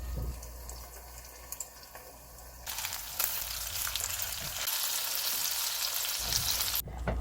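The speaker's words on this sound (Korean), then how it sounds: "동그랑땡보다 조금 더 크게 완자를 만들어서 팬에 익혀요." Meatballs sizzle and crackle steadily in a hot pan, the frying growing louder partway through and continuing without any voices.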